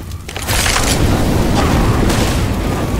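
A Molotov cocktail bursts into fire in the zombie shooter Left 4 Dead, a loud, sustained roaring whoosh of flame that swells after a brief lead-in and keeps blazing steadily to the end.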